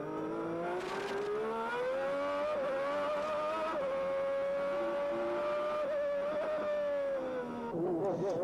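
Formula 1 race cars from the 1991 season scream past at full throttle, a loud sustained high engine whine with a slight pitch drop as they pass, then another car approaching near the end.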